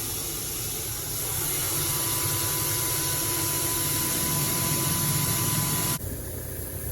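A farm trailer tips barley and oats into an intake pit, a loud, steady rushing hiss over an engine hum that runs for several seconds before cutting off abruptly near the end, leaving a quieter rumble.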